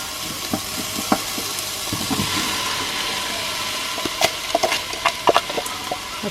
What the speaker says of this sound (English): now the veg is going in.